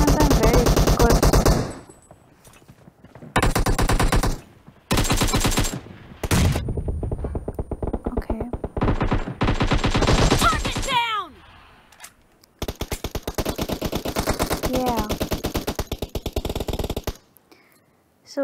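Gunfire in the video game PUBG: loud bursts of rapid automatic fire in several separate volleys with short pauses between, plus single shots, alone without talk.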